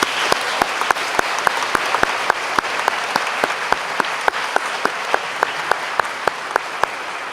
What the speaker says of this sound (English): Class of 2018, please join me in a round of applause to thank them for their unwavering support.